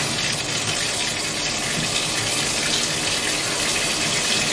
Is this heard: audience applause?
no